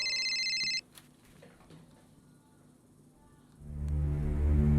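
An electronic phone ring trills once at the start, then a quiet room follows before a low rumbling swell rises at the end.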